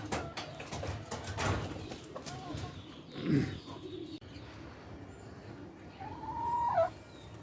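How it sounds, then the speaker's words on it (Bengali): Native country hens on a small farm cluck and call, with a few low coos and one rising squawk standing out over rustling background noise, fairly close. "এখানে যতগুলো দেশি মুরগি দেখতেছেন সব মুরগিগুলো কুচে বসিয়ে দিয়ে সবার থেকে বাচ্চা নিয়েছে"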